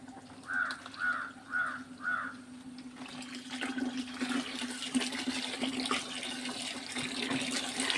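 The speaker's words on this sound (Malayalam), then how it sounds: "ഞാൻ ഇതിൻ്റെ ബാരലിൽ കുറച്ചുകൂടെ വെള്ളം ഒഴിക്കാം" Water pours into a barrel with a steady rushing, splashing flow that builds and continues, while a crow caws four times nearby before the pour.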